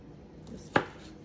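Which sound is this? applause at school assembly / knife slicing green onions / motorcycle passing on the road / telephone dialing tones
knife slicing green onions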